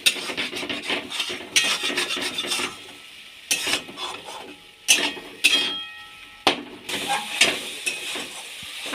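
Okra curry with cashew paste is stirred and sautéed in a pan, with repeated scraping strokes of a spoon against the pan over a soft sizzle, loud and close.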